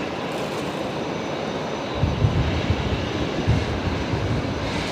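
A Qantas jet taxiing at Brisbane Airport gives off a steady, distant engine roar and rumble with slight swells in level, and no voices.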